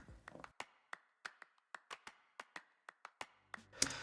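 A percussion loop from a chill pop beat plays on its own: crisp, evenly spaced clap-like hits and taps in a steady rhythm, close and dry, with a brighter, denser hit near the end.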